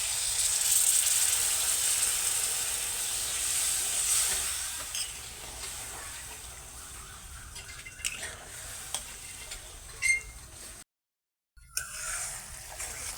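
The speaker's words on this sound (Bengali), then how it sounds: "এবার এর মধ্যে আমি কিছুটা পরিমাণ দিয়ে দিচ্ছি জল" Water poured into a pan of fried Gobindobhog rice hisses and steams, the sizzle fading gradually while spoon stirring and scraping clatter through the second half, with a brief dropout near the end.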